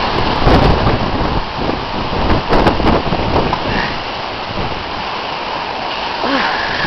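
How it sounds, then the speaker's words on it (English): Heavy rain pounding down during Hurricane Gustav, a loud continuous roar with low rumbles of thunder mixed in, close and steady throughout with no voices. "never go out in a rainstorm"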